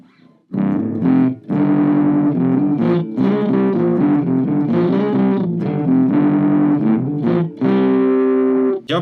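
Bass guitar played through a Hotone Ampero Mini multi-effects unit with distortion and the clean signal blended in, a loud, continuous run of sustained, gritty notes with a few short pauses.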